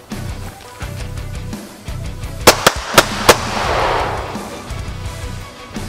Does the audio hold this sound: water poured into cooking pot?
no